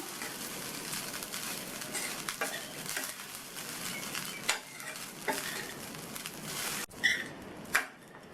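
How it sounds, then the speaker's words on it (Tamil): Coconut rice being stirred in a pan with the stove off, a soft continuous scraping and faint sizzle close by, with a few louder utensil knocks near the end and no speech. "ஸ்டவ் ஆஃப் பண்ணிவிட்டு நல்லா ஒன்று போல் கிளறி விட்டுறணும்"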